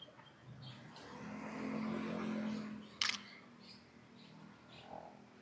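A camera shutter fires once, a single sharp, crisp click midway through, during live outdoor photography in Pattaya; faint ambient background surrounds it, with no talking.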